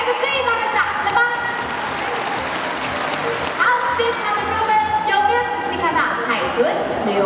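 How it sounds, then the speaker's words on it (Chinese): Audience applause at a dolphin show in a marine park in Hualien, steady clapping sustained throughout over background music, with crowd noise mixed in. "来个最大的掌声吧"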